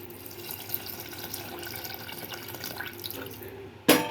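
Tamarind juice pours into a pot of drumstick dal with a soft, continuous liquid trickle and splash, ending in a sharp clink at the close.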